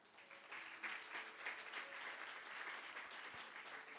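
A church congregation applauds, a quiet but continuous patter of many hands clapping with faint crowd murmur beneath.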